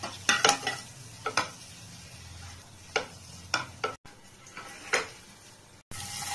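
Spices with salt, chilli powder and turmeric frying in a pan: a low steady sizzle broken by several crisp spoon scrapes and taps against the pan, close by and without talk.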